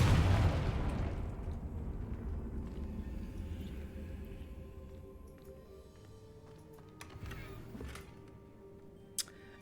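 A Confringo fire spell in Hogwarts Legacy bursts with a loud, deep boom at the start, then decays into a long rumbling tail with faint scattered clicks afterward.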